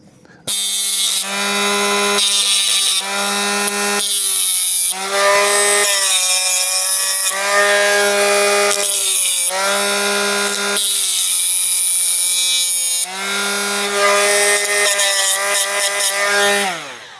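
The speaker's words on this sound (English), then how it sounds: "I get my little Parkside machine, little mini grinder." A small Parkside mini grinder cuts into a metal Fiat 500 door handle hinge, a loud high whine in repeated bursts of a second or two separated by short pauses, with the pitch dipping as the disc bites.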